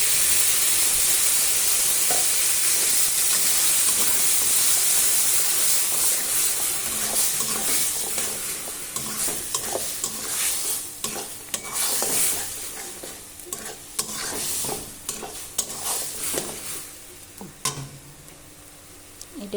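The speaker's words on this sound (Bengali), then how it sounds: "এটা একটু ভাজা ভাজা হোক।" Beetroot fries in a pan while being stirred, a close constant sizzle broken by scraping and clattering strokes of the spatula that grow busier toward the end.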